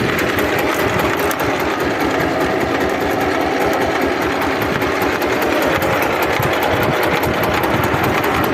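A Lider 220 mini tractor engine runs steadily at idle, a constant buzzing mechanical drone close by, with no voices over it.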